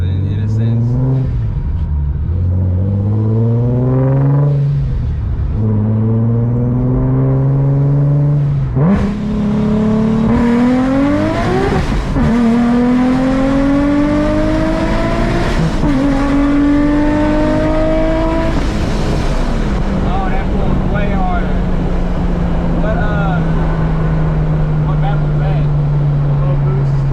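Boosted Nissan 370Z with tires spinning, the engine revving hard through several rising sweeps that climb, drop back and climb again, very loud and close, then easing to a steadier drone, with people talking over it.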